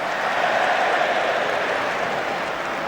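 Newcastle football crowd at a Carabao Cup semi-final against Southampton, a dense, steady roar of cheering that fills the stadium without a break and stays loud throughout.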